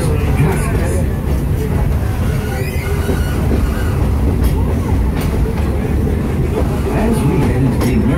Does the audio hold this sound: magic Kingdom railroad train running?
yes